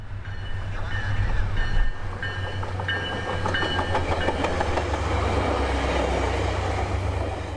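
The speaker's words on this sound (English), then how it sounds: "would be Tri-Rail cab car number 501." A Tri-Rail train led by cab car number 501 passes with a steady rumble and clattering wheels, a low engine drone underneath, and faint squealing tones early on.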